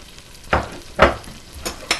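Onions hit hot oil in a pan at medium-high heat for a Somali spaghetti sauce, giving four short loud bursts of sizzling spaced about half a second apart, close and with no voice over them.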